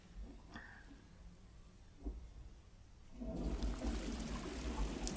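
A bathroom toilet flushes, a sudden rush of water surging in partway through and holding steady as a loud, close gush after quieter trickling.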